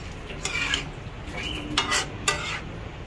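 Food being stirred in a cooking pan during simple home cooking with cabbage, giving a few scraping, clattering utensil strokes over a low background hiss, fairly close and moderately loud.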